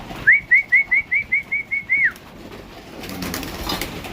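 Racing pigeons in a loft give a quick run of about eight clear, evenly spaced whistly calls, fairly close, then fade into quiet room noise with a faint rustle.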